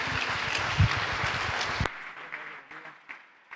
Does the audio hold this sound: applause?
yes